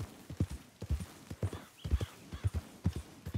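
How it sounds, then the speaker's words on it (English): Wild horses gallop in the Red Dead video game, their hooves clip-clopping in a steady, fast rhythm close by, with a brief whinny partway through. "there are wild horses in here, aren't there?"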